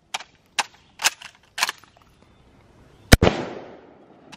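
A Mosin Nagant rifle firing several shots, sharp cracks spaced about half a second apart followed by a louder final shot with a trailing echo, distant-sounding and alone.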